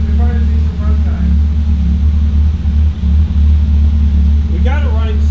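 A BMW E30's engine idles with a low steady rumble and hum close by, a voice talking over it throughout.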